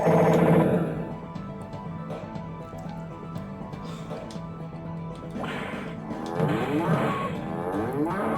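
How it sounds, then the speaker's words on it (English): A cartoonish cow moo plays as a sound effect on a Windows 9x PC, a long loud bellow that fades into a lower murmur before a second rising moo near the end. "The cow has been launched, folks."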